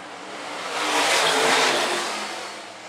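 Modified race cars on a dirt oval at Phillips County Raceway pass down the back straightaway, a broad engine roar swelling as they approach, peaking mid-pass and fading away again, with no talk over it.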